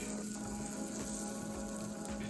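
Butter sizzles in a hot pan while a steak cooks, a steady close crackling hiss that continues throughout with no speech.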